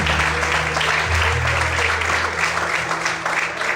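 Church congregation applauding during an evening service, sustained clapping from a crowd with some voices mixed in, steady and fairly loud throughout.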